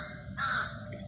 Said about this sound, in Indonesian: Di atas ada burung gagak.